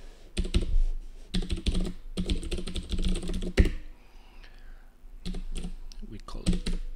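Rapid clattering on a computer keyboard while coding electronic controllers for an AWD project, bursts of fast typing separated by short pauses, close and fairly loud, with a brief quiet gap midway.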